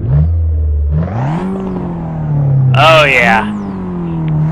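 Fiat 500 Abarth engine in a racing game, idling low then revving up in rising and falling sweeps, with a sharp high rev burst near the end; a voice speaks briefly over it.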